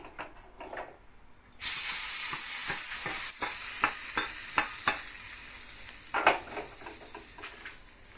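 Curry leaves crackle and sizzle in hot oil as a tempering for sambar rice, bursting suddenly into loud frying with rapid pops and sputters that continue steadily up close, and no talk.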